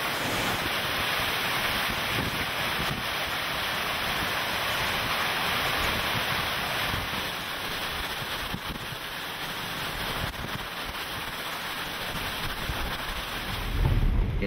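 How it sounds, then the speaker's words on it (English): Powerful hurricane wind roars continuously with surging gusts near 60 mph and heavy rumbling buffeting, loud and unbroken, swelling again at the very end as the eyewall approaches, South Florida. "Getting gusts 50 knots here, about 60 miles an hour on some of the stronger gusts."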